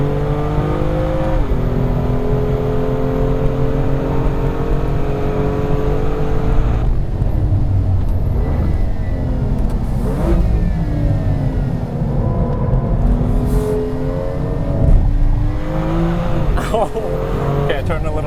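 A BMW M2 on the Laguna Seca track accelerates hard at full power, its engine note climbing steadily through the gears, loud and close from inside the car, with a driver talking over the continuous roar.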